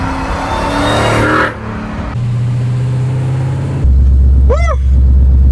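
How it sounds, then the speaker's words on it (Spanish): Nissan 350Z fitted with a swapped Hellcat supercharged V8, revving loudly up close with a rising supercharger whine over a deep engine drone, the pitch shifting as it accelerates and then settles into a steady low rumble. "Por supuesto que no podemos dejar de lado el increíble sonido que el supercargador está generando."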